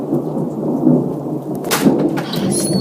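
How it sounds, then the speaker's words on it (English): Thunder rolls through a huge thunder and lightning storm, a loud, continuous rumble with a sharper crack near the end, steady rain hissing underneath. "huge thunder and lightning storm."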